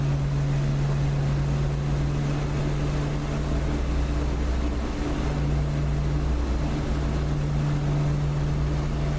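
A propeller aircraft engine holds a steady drone on its takeoff run in the DCS flight simulator, a continuous loud hum with a strong low tone and broad noise throughout.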